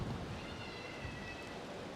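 Wind buffets the open air on a gusty day in Jerez, Spain, a constant rough rushing roar with low rumble, faint overall but unbroken and without speech.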